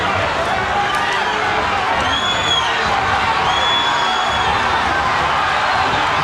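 A boxing arena crowd at a 1990s bout between Toney and Nunn in the 9th round roars and cheers steadily throughout, a dense, loud wash of many voices with occasional whistles and shouts rising above.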